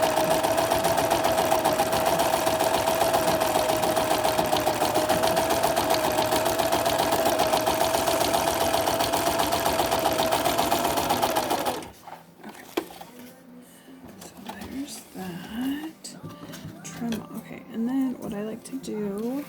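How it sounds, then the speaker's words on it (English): A sewing machine stitches four layers of filter fabric and two layers of cotton for a face mask, running as a steady, loud whirring drone for about twelve seconds before stopping, followed by softer handling noises. "So we're going to sew those 4 layers of filter fabric and the 2 inner layers of cotton fabric together."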